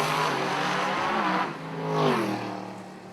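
A drag race car at a Lights Out 9 event roars down the track in one loud continuous engine blast, pitch sweeping up and shifting midway, fairly close and steady over three seconds with no talk.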